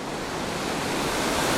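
Rushing river water in Fuxing District, Taoyuan, Taiwan, a steady dense wash of flowing water, loud and close, with no talking and no breaks.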